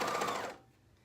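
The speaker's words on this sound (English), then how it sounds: "So we're sewing around the armhole." A sewing machine runs briefly as it stitches binding around a garment armhole, a close, steady mechanical whir that stops after about half a second, leaving near silence.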